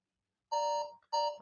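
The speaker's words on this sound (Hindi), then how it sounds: "और भैया आपका 10 सेकंड का टाइमर शुरू हो गया।" Two electronic beeps from a quiz countdown timer, each a steady bright tone lasting about a third of a second with a short gap between, clear and close with no talk.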